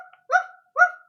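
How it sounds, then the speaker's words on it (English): A dog barks twice in a stage play of The Wizard of Oz, two short, clear barks about half a second apart, with no other sound around them. "Toto barks in the distance."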